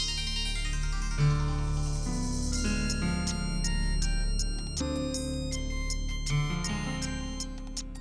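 A melodic phone ringtone plays on repeat, a bright electronic tune with chiming notes, steady and fairly close.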